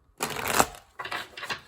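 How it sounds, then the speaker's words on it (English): Tarot cards being shuffled in short bursts, one longer riffling rush followed by two quicker flutters, close and fairly soft against a quiet background. "I'll give you 2 more shuffles"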